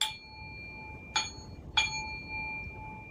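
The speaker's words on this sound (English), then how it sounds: "He raised the bell and shook it." A handheld bell rings with a high, thin chime: one opening strike, then two more about half a second apart, each leaving a bright ringing tone that lingers against a quiet background.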